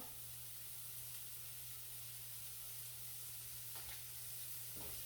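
Butter sizzles in a pan with frying mushrooms, a steady soft hiss and crackle beneath a low hum, with a couple of faint clinks and no speech.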